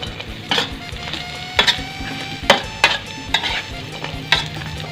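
Food frying in a little oil in a pan, a low sizzle broken by repeated scraping and clinking strokes of a utensil stirring, close and moderately loud, without speech.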